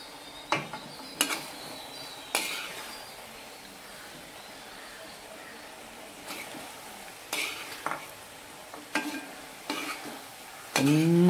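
Avial being mixed in a pan: mixed vegetables with grated coconut and curry leaves, stirred with scattered scraping knocks against the pan over a quiet background hiss, with a louder clatter right at the end.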